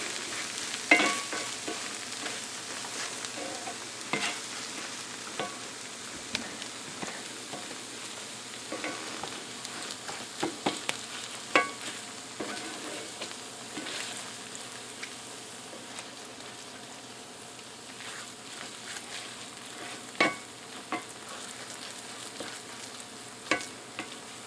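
Ground beef spread across a cast iron skillet on a stovetop for a Frito pie, giving a steady low sizzle with scattered soft scrapes and small pops throughout, moderately close and without any talking.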